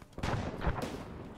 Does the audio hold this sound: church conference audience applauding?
no